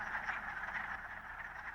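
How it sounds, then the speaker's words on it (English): A male wood frog's quacking breeding call in a vernal pond in early spring. It sounds as a dense, continuous chorus of raspy croaks at moderate loudness, with no voices. "The quacking sound of the male wood frog, also an obligate species, attracts a female for breeding in early spring."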